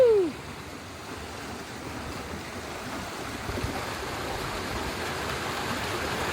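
Strong waves washing and churning continuously at a river or beach in Cavite, a steady broad rush close by with no talking over it.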